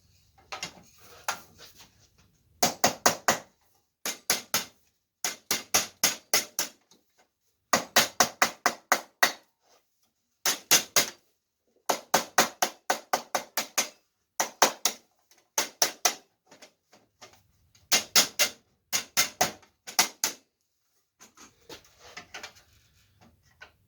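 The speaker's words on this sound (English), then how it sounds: "to back up the metal while I hammer on it." Sharp metallic hammer blows on aluminum backed by a dolly, in quick bursts of several strikes each, separated by short pauses, close and ringing, with no talk.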